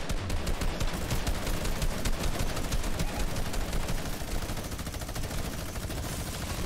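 Sustained rapid minigun fire in the video game Fortnite, a dense, continuous mechanical roar of shots running loud and unbroken for the whole stretch, with no talking over it.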